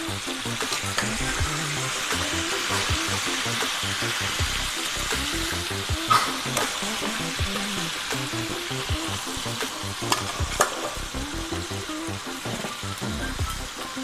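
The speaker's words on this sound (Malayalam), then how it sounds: "ചിപ്സ് പൊരിക്കാം. അപ്പൊ നമുക്കിത് പൊരിച്ച് ഇരിക്കാം." Home-made chips frying in hot oil, a steady dense sizzle and crackle with occasional sharper pops, continuous and close for the whole stretch, no talking.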